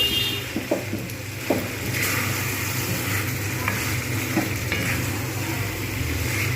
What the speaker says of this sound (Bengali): তাই আমি এবার এর মধ্যে দিয়ে দেবো চিকেন ম্যারিনেটেড। জাস্ট ভালো করে নেড়ে নেব।